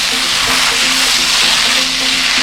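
Egg noodles, vegetables and egg sizzle loudly in a pan over high flame with Szechuan sauce, a dense continuous hiss of stir-frying with faint scraping and no talk.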